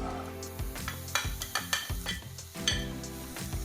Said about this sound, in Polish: Włączam gaz pod patelnią i wrzucam łyżeczkę masła. I teraz wrzucam grzyby.